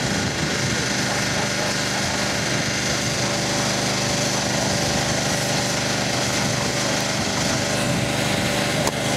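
Dirt motorcycle engine at the Roof of Africa enduro race, a continuous loud high-pitched buzzing drone held steady throughout with no pauses.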